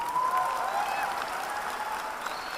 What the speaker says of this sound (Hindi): यहां खड़े होकर लोग ताली बजा रहे हैं